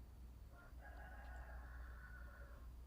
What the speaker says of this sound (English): that's a rooster crows outside my window